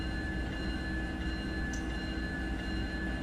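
A locomotive in the Run 8 train simulator game drones with a steady, even engine rumble and faint high whine, continuous and unchanging throughout.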